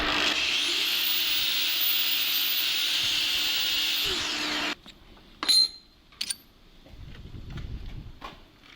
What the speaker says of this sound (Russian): болгарка